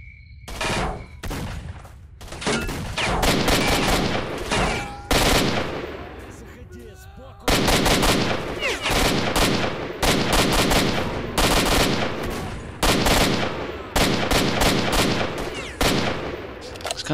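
Rapid automatic gunfire from a weapon in the video game S.T.A.L.K.E.R. Shadow of Chernobyl, loud bursts of shots in quick succession with brief pauses between volleys, nearly continuous throughout.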